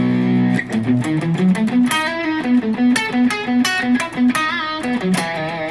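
Electric guitar, an Enya Nova Go Sonic, played through its built-in delay and distortion effects: a short melodic run of plucked notes with a gritty overdriven tone, close and fairly loud.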